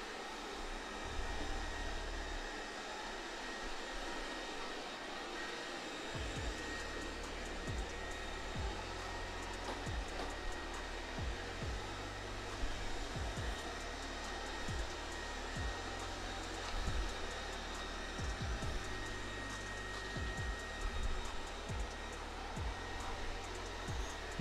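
A Roidmi Eve Plus robot vacuum cleaner runs with a constant close whooshing motor hum, broken by periodic faint thumps and shifts as it zigzags across the floor.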